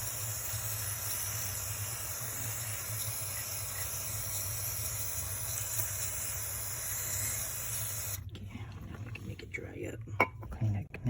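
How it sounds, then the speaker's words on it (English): CRC mass airflow sensor cleaner sprayed on the MAF sensor element of a Toyota Corolla, a steady faint hiss for about eight seconds, followed by quiet clicks and handling noises. "I'm going to use this CRC mass airflow sensor cleaner."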